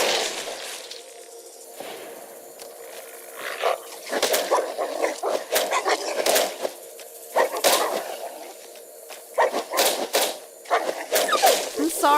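Snake dog creatures in Fallout New Vegas: Old World Blues snarl, bark and whimper in repeated bursts, with game effects and a voice in the mix.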